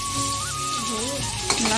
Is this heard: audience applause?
no